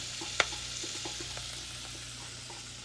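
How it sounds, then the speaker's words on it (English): Shrimp sautéing in a pan over medium-high heat for mofongo de camarones gives a faint, steady sizzle with a few soft stirring ticks and one sharp click near the start, with no voices. "Turn that up to medium high, a little bit less, and let that shrimp saute."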